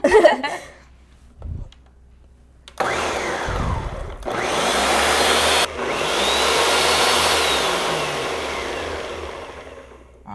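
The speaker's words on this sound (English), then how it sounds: "you're just gonna blend it for a couple seconds until you see most of the blueberries have kind of, blended." A kitchen blender whirs loudly while blending blueberries for a mother's day breakfast, starting and stopping in a couple of bursts before running steadily for several seconds, with brief voices and handling noise at the start.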